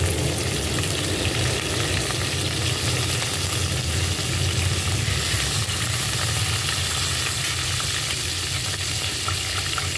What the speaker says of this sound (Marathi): तर त्याच्यामध्ये मी जिरा टाकलेला आहे 2 चमचे